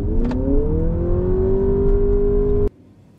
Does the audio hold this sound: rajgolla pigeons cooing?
no